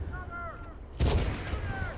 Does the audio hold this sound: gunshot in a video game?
yes